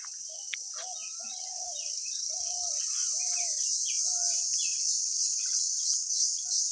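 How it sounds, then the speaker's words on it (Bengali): Birds chirp repeatedly in a village jungle behind a house by a river, short mid-pitched calls over a constant loud, high insect or cricket drone. "এখানে প্রচুর পাখির কিচিরমিচির শব্দ আছে।"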